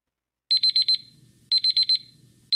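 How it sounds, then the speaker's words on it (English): Countdown timer alarm beeping in bursts of four to five rapid high electronic beeps, with a second burst about a second later and the start of a third, over faint low background noise; no talking. "Your 10-second timer starts now."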